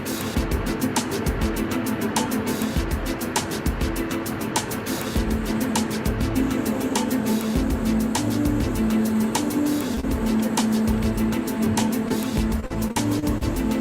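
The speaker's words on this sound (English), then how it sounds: "It's really hard to be filming in the car here because the road is rough, patched up all over the place" Steady, loud road noise from inside a car driving over a rough, heavily patched mountain road, with continuous engine and tire rumble and frequent small jolts and rattles throughout.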